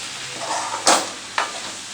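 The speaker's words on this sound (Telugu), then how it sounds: "ఇప్పుడు కారం వేస్తున్నానండి, ఈ స్పూన్ వేసుకున్నాను, కలబెడుతున్నానండి" Mixed vegetable curry frying in a pan as chili powder is stirred in, with a steady soft sizzle broken by two quick scraping stirs of a spoon, close and alone.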